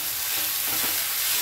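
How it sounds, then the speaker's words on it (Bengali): Coriander leaves are stirred into onion fritters frying in oil, a brief, loud, continuous hiss of sizzling heard up close without any talk. "ধনে পাতাটা দিয়ে আর একবার ভালো করে মিশিয়ে নেব"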